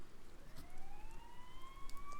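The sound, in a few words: police sirens nearby in video game Persona 4 Golden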